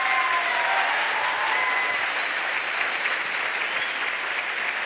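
Seminar audience in a hall breaking into sustained applause, a thick, even wash of many hands clapping at a constant level with no pauses.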